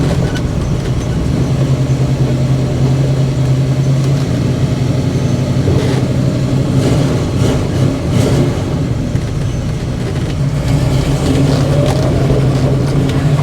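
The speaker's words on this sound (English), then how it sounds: "Let it warm up a little bit here." A 1972 Dodge Challenger with a 340 V8 and 904 automatic idles steadily while warming up, a continuous low rumble heard close and alone for the whole stretch.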